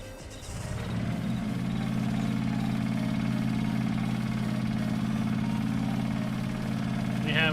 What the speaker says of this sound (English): The engines sound great.